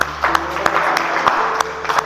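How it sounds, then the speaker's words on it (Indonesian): Classroom group clapping at a teacher's prompt during a lesson, a busy wash of hand claps with a few sharper close claps standing out, and a faint hum running underneath. "Tepuk tangan."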